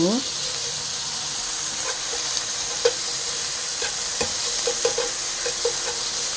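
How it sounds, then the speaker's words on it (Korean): Ingredients for a rice burger are stir-fried in a hot pan with chopsticks, making a constant sizzle with quick light taps and clicks against the pan. "뭉치지 않도록 얼른 볶아줍니다. 이때는 젓가락으로 하는 게 더 잘 볶아질 수가 있어요."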